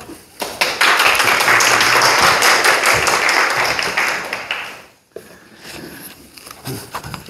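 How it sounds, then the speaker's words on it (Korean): Congregation at a Sunday afternoon church service greeting a pastor with welcoming applause, a loud burst of many hands lasting about four seconds before fading out, followed by quieter shuffling and footsteps. "나올 때 환영의 박수 부탁드립니다."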